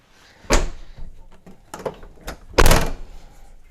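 A Toyota 4Runner rear door, just fitted with a Gobi ladder, is closed in a few solid thuds and clunks, the last one the loudest, with quiet pauses between.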